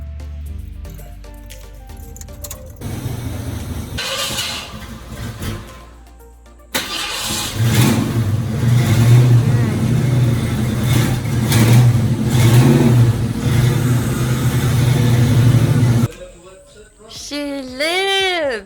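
A 1968 Mercury Cougar cranks and fires up, then its V8 idles and revs loudly for several seconds before settling, with brief talk near the end.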